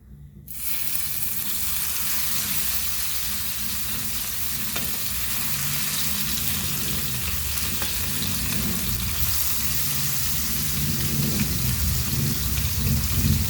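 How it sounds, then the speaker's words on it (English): Loud, steady sizzle of sole fish (lepo) frying in hot oil for a Goan fish fry, a dense crackling hiss that starts abruptly and keeps going evenly throughout, with no talking. "Now let's fry this, and we'll have it hot today for our lunch."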